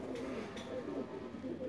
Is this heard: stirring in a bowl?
no